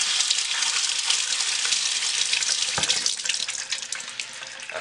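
Water runs steadily from a tap into a sink while soap is lathered in a homemade soap lather test, making a loud, continuous hiss with no talk over it.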